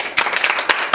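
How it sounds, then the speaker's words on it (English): Close, steady clapping from a small studio group during a Christmas mukbang show, with dense, uneven hand claps and a few sharper slaps standing out. "so round of applause for that"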